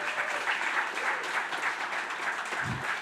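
An audience at the Minnesota Startup Awards 2022 for Twin Cities Startup Week gives a sustained round of applause, a dense even wash of clapping throughout, with a brief low thump near the end.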